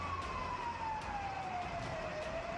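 A fire brigade vehicle's siren sounds at a fire, one steady, slowly falling wail carrying over a constant background roar.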